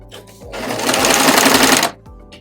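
Sewing machine stitching the final spot on a zipperless pillow cover, a loud, steady mechanical whir of rapid stitching for about a second and a half, with a faint quiet voice and clicks before and after.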